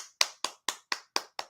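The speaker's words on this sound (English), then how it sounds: "need to clap." Six sharp hand claps ring out close and alone in a steady rhythm, each with a short decay and silence in between.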